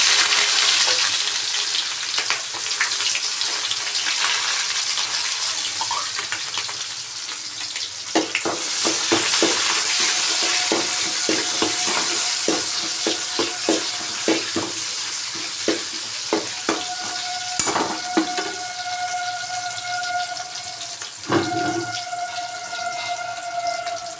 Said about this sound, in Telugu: ఇప్పుడు ఆనియన్స్ ఫ్రై అవుతున్నాయి కదా.